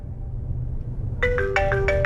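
A phone ringtone starts abruptly after a quiet moment, a bright electronic melody of repeated tones playing over low room hum.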